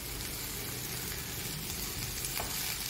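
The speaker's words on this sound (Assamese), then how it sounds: "এতিয়া মই ইয়াতে দিম এয়া শাকখিনি, মানে ঢেকীয়া শাক।" Fiddlehead fern greens hit a frying pan of scrambled eggs with a steady, close sizzle that holds evenly throughout, no voices present.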